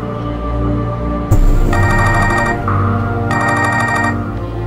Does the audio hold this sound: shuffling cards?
no